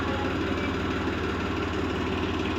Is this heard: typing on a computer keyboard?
no